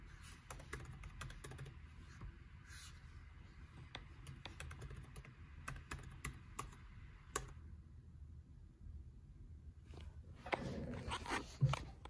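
Keys on a laptop keyboard clatter close by in quick, uneven bursts of soft clicks and taps, then pause and resume, with a low hum beneath and a brief thump near the end.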